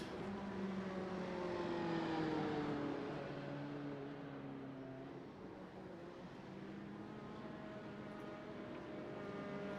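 LMP2 prototype race cars pulling away at the start of an iRacing multi-class IMSA race at Portland International, a dense layered engine roar with rising pitch sweeps, steady and moderately faint.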